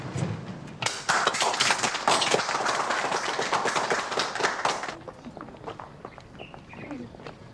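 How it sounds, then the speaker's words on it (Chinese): Crowd applause from a room of standing officials honoring a prosecutor and work group, dense broadband clapping swelling for about four seconds, then fading out into lighter scattered sound. "起立，鼓掌。"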